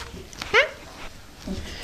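Dogs give a short high whimper followed by faint whines and soft noises, close by, with quiet background sound.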